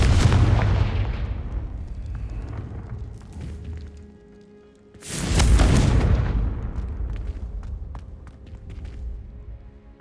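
A Confringo spell blast in the Hogwarts Legacy video game, two heavy booming explosions with long rumbling tails, the second louder, near and alone with no talk.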